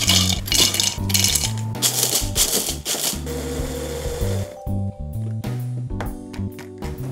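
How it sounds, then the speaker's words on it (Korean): Mini blender grinding oven-roasted jujubes into fine powder for baking, a busy rattling whir with pulsing bursts and some gaps, loud and close, with no speech. "저는 이제 이렇게 생긴 미니 믹서기를 쓸 건데요."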